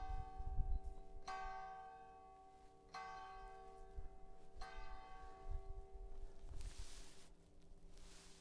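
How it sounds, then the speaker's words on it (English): Church bells in the village of Muruzábal on the Camino de Santiago ring out in slow, evenly spaced strokes, each resonant clang hanging and fading before the next, with a rush of wind or traffic near the end. "I love bells, deeply love bells."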